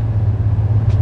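Chevy 2500 truck with a 6.6L gas V8 engine braking through downshifts at highway speed, a steady loud low engine drone and rumble held close throughout one second with no talk.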